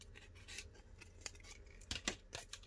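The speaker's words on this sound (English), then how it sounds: "I cut a little section out." Scissors snip through a thin section of cardboard in several crisp, close cuts of uneven spacing, the last few louder and closer together.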